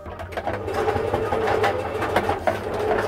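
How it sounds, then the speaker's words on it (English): A sewing machine powered through a 240 volt inverter on a sailing boat hums steadily throughout, a continuous motorized whir with rhythmic mechanical chatter, close and fairly loud. "just hooked up the sewing machine to the 240 volt inverter for the first time"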